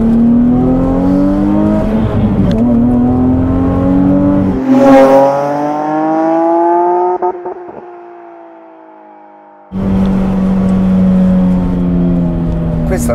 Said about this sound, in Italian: Questa nasce senza antirombo, quindi tutti questi sassolini che sentiamo ti danno proprio quel senso di pista